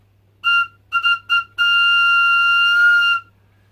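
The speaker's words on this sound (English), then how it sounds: "this particular whistle is made out of Bramble" A shrill whistle made of bramble is blown close by: three short toots in quick succession, then one long steady blast before it stops.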